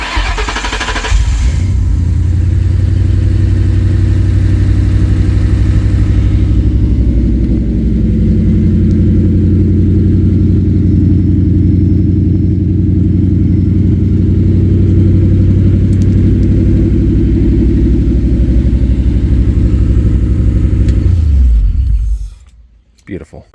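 A 1967 Ford F100 with Holley Terminator X EFI starts and idles, a loud close low rumbling engine running steadily for about twenty seconds before cutting off abruptly.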